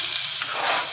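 Whole dried red chillies, cumin seeds, nigella and chopped garlic frying in a small amount of mustard oil, giving a steady, loud, close sizzle and hiss throughout with no talking.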